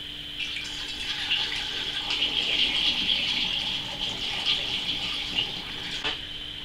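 Brewed spirit, roughly 40 percent, poured from a container into bottles: a steady, close trickling and splashing of liquid running for several seconds, with a slight change near the end.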